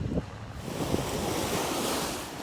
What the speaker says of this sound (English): I love being at the beach, the sound of it.